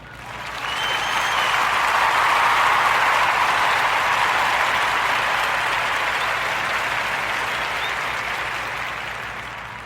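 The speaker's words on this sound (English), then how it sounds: "join me in giving Hood Ice Cream a warm narrative podcast round of applause" A round of applause from an audience swells quickly into steady, dense clapping and holds for several seconds before slowly fading, with no voices over it.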